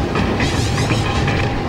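A passenger train rolls steadily along a coastal line, its continuous loud rumble and rail noise carrying rhythmic clickety-clack from the wheels throughout, with no voices.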